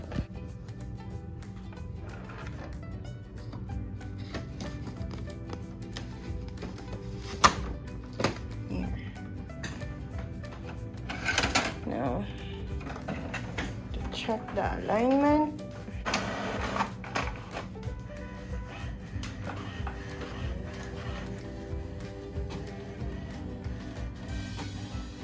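An HP Smart Tank 500 all-in-one inkjet printer prints an alignment page slowly, with mechanical whirring, clicks and thunks of paper feed and print head over about 25 seconds. Faint room noise and occasional voices sit in the background.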